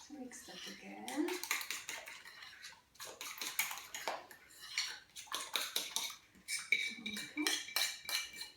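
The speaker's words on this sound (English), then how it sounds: "Then the eggs and sugar. So mix that again." Eggs and sugar being mixed in a bowl for Polish doughnut dough, with repeated scraping and clinking strokes of a utensil against the bowl, fairly close and steady, pausing briefly between bursts.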